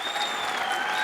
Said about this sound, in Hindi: इनके लिए जोरदार तालियां भाई साहब के लिए।